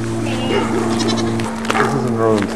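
Sheep bleating nearby, wavering cries over a steady low hum, with some talking mixed in.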